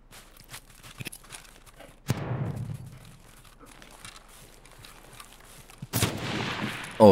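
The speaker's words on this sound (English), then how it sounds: "I started throwing grenades all around these bushes." Grenade explosions in Escape from Tarkov, around bushes: two heavy booms spaced a few seconds apart, each trailing into a rumbling decay, with scattered small sounds between them.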